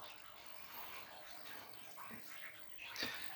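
Water draining out of a pump-station setup, a steady broadband rush that continues throughout, with a brief louder splash near the end.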